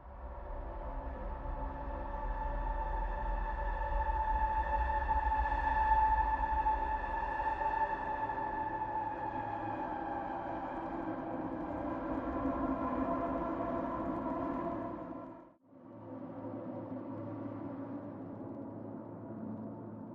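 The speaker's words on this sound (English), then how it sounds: "this track just has some low, droning noise, a tiny bit of Morse" Low droning ambient soundtrack from the video game The Isle, a sustained dark hum with layered tones and faint pulsing beeps like Morse code; it cuts out briefly near the end, then resumes.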